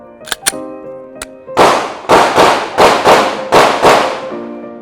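Rapid sharp reports from a Glock 45 pistol fired at a shooting range, about two early shots then a string of six loud close bangs with short echoing tails, no talking.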